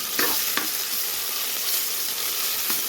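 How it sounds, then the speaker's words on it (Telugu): Ginger and bay leaves frying in oil for Telangana-style spicy chicken, a loud, even hiss of sizzling with a few scattered clinks of a spoon stirring the pan. "అల్లం వేసుకున్న తర్వాత కలుపుకోవాలండి"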